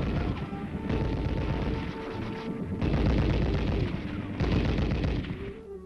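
Heavy machine guns firing in Korean War era training: continuous rapid bursts of chattering gunfire, loud and dense, with brief pauses between sustained strings of shots.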